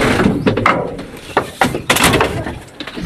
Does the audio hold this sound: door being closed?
yes